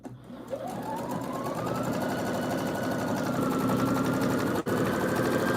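Sewing machine winding thread onto a small bobbin, a steady close mechanical whir with a rising pitch as it speeds up, then running evenly with one brief dropout near the end.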